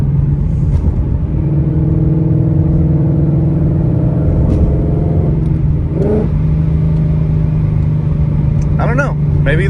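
A supercharged Ford Mustang engine drones steadily while driving, a loud continuous rumble with gear-change shifts in pitch, as someone talks over it.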